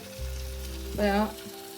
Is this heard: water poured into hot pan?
yes